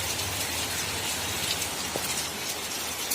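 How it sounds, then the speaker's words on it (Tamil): Heavy rain pours down steadily, a dense, even hiss of drops striking surfaces that holds at a constant level throughout with no voices. "மழை நல்லா பெஞ்சிட்டே இருக்குது."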